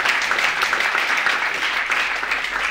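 An audience gives a round of applause, a dense, even wash of clapping that holds steady for a few seconds with no voices over it.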